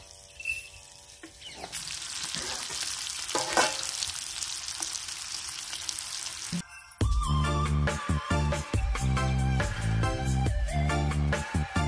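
Fish coated in masala fries in hot oil with a steady, loud sizzle, then a sharp switch to harsher crackling and clattering as the pieces are turned; no one talks.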